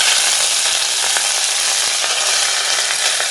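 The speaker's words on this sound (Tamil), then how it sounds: "எண்ணெய் சூடானாக்கில் கடுகு, உளுந்தம் பருப்பு," Mustard seeds, urad dal and curry leaves sizzling hard in hot oil for a Tamil kuzhambu, a loud, unbroken crackling hiss close by with faint pops and no speech.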